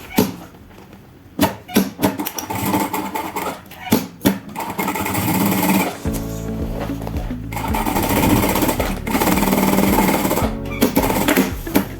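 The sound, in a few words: sewing machine stitching a seam with the presser foot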